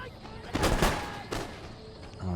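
Line troops fire a musket volley in Empire: Total War, heard as a loud crackling burst of many shots, then a second smaller ragged volley, with battle noise continuing underneath.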